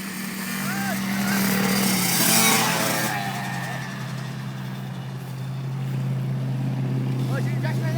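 Dirt bikes race on a track, engines droning steadily throughout with rising and falling revs, while excited voices talk and shout over the motor noise.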